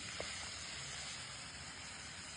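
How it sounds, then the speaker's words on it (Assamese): Pork cooking in a pan after water has been added. A soft, continuous steamy hiss and sizzle holds at a fairly faint, even level for a couple of seconds, with one small pop near the start. "পানীখিনি দি ধুনীয়াকৈ ভাজি আছোঁ।"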